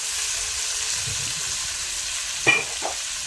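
Soaked, washed and drained rice frying in a pot gives a steady soft sizzling hiss throughout, with a pair of brief stirring scrapes near the end.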